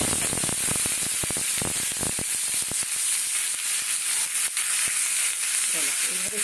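Bay leaf and whole spices hitting hot oil for a yogurt potato curry, giving a loud, steady crackling sizzle with dense spitting pops close up, gradually settling while faint stirring scrapes come through.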